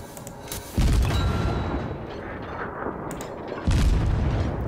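A Cleveland cruiser in World of Warships fires its shells, two heavy booming salvos with a constant rumble of battle noise between them.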